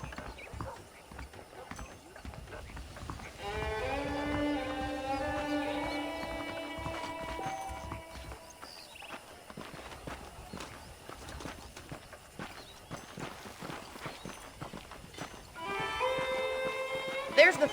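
Horse hooves clip-clop in the Red Dead Redemption video game, a steady walking rhythm running throughout, while a melodic music phrase plays over the top at times.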